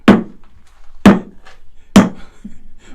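A hammer strikes wood in a shop three times at roughly one-second intervals, each a sharp, loud knock with a brief decay and no talking.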